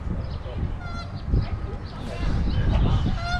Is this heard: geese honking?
yes